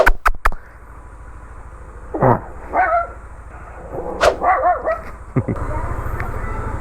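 A pet dog gives a few short barks and yips, close by, mixed with some brief human vocal sounds and a low background hum.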